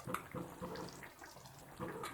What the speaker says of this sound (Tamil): நான் வந்து ஒரு 10 பீஸ் கருவாடு போடுறேன்.